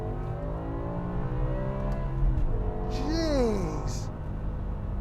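BMW E60 M5 engine revved out in second gear, a loud steady high-pitched wail heard from inside the car, with a voice speaking briefly over it.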